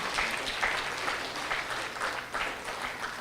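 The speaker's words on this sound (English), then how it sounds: "let's give, once again, our speakers a round of applause" A room full of people claps steadily, a dense patter of applause at moderate distance that carries on evenly without any voices.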